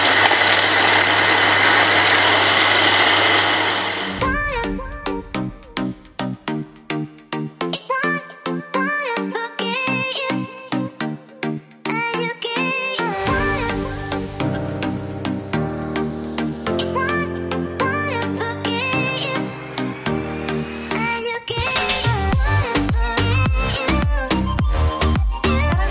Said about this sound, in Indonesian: Sekarang kita blender dulu.